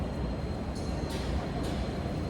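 A Bengaluru metro train rumbles steadily throughout, a dense low roar with faint higher hiss swells, moderately loud and close, with no talking.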